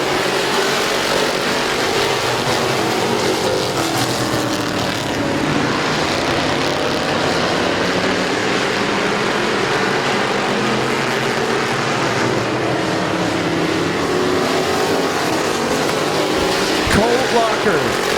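Race cars roar around Midvale Speedway in a continuous loud engine drone, the field packed close together through the turns, with a race announcer talking over the noise.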